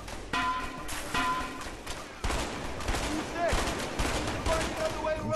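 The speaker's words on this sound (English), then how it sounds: "I'm shooting." Video game A Way Out gunfire, rapid bursts of shots and fusillades in close succession with heavy booming impacts, a voice speaking over parts of it.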